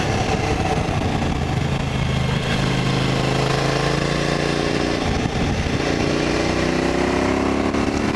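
Suzuki V-Strom 1000 motorcycle engine running steadily while riding, a loud continuous drone with rising pitch as it pulls through the mid-range, close and alone without talk.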